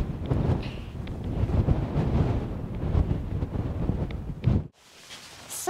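Strong wind buffets the microphone on a hilltop summit, a loud, continuous roaring rush with gusty surges, which drops abruptly near the end to a quieter sheltered hiss.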